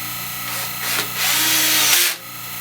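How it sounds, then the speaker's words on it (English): A power drill boring into an HDPE mold, a close, loud steady whine that rises in pitch partway through before the motor cuts off near the end. "I do all my drilling, just run an assembly line type thing"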